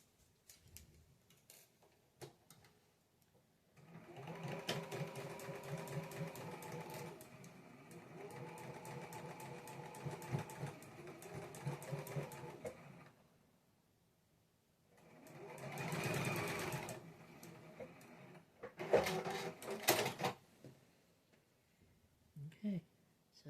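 Sewing machine stitching a pinwheel nine-patch quilt block, running in several bursts of rapid mechanical chattering separated by pauses, close and clear, with someone talking in between.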